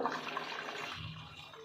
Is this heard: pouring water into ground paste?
yes